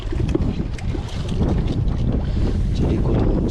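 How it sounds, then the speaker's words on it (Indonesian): Strong wind roars across a boat at sea during squid fishing, buffeting the microphone with a loud, continuous low rumble and gusty swells. "Anginnya kencang,"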